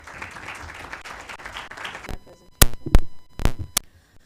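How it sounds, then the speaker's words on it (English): Scattered applause from a small conference audience fades out, followed by a few sharp, isolated claps and bumps nearby. "Let's welcome her with a round of applause."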